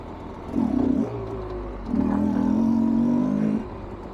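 A Rieju 300 MR Pro dirt motorcycle on a test ride gives two loud revving surges, a short rise then a longer sustained pull, with lower engine drone between them and no talk.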